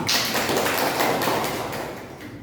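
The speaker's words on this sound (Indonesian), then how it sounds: "Tepuk tangan kita semua" A classroom of students claps together in applause, a dense, fairly loud patter of hands that holds steady and then tapers off slightly toward the end.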